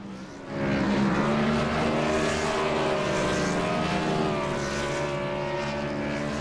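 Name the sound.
race cars doing straight line burnouts in iRacing video game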